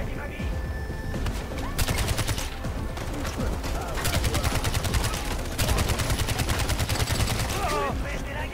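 Rapid bursts of gunfire in the video game Far Cry 4, with dense overlapping shots and automatic fire rattling loudly and almost continuously over a game soundscape.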